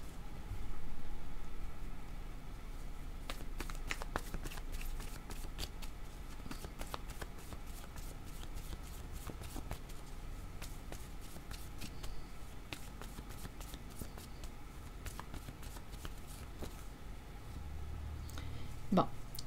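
Playing cards shuffled over and over in a quiet room, a steady run of crisp riffles and flicks with soft low rumble beneath and faint voices in the background.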